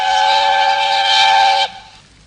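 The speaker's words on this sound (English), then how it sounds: "Presently, he heard a whistle." A steam engine whistle blows loud and steady for about a second and a half, then cuts off sharply and leaves a faint fading echo.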